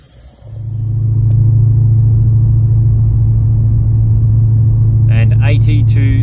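Holden VF GTS car engine rising into a loud steady rumbling drone as it accelerates ahead of a brake test from 80, heard from inside the car with a brief beeping near the end.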